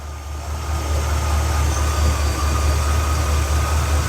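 A hot rod car engine idling during idle mixture screw adjustment, a steady low rumbling drone heard close and fairly loud, without voices.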